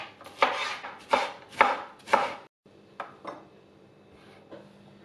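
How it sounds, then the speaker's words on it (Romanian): Onion and capia pepper being diced into cubes for a tomato cream soup: four firm, evenly spaced knife strikes on a board, then a few lighter, softer cuts trailing off. "O ceapă tocată în cuburi, un ardei capia tocat în cuburi"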